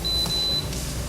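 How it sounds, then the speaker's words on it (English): Control panel of a Simpot 8-quart pressure cooker gives a single steady electronic beep lasting about half a second, clear and close, with a faint soft handling noise after it. "the beeping is a little annoying"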